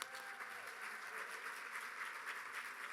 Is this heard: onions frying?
no